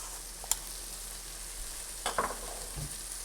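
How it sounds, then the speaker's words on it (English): Coriander, paprika and other spices toast in a pan for shakshuka, giving a soft, quiet sizzle with a few brief scraping stirs near the middle and end. "We're going to give that a nice stir, get all those spices toasty."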